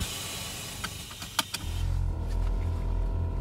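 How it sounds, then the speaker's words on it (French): A small electric car air suspension compressor hums steadily at low pitch after a few light clicks and knocks, running on alone and fairly close. "Donc on a toujours le petit bruit de compresseur"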